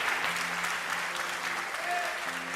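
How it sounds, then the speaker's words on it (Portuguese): Congregation applauding in a church, a steady wash of clapping hands filling the whole moment, with a voice speaking over it. "Aplauda ao Senhor, aplauda a Ele"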